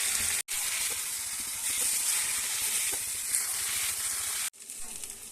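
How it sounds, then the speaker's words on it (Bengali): Boiled banana flower dropped into a pan of sautéed spices for a vegetarian mochar ghonto, giving a loud, dense, continuous sizzle up close, with a brief break and a quieter hiss at the end. "এবার সেদ্ধ করে রাখা যে মোচাটা রয়েছে ওর মধ্যে দিয়ে দিলাম"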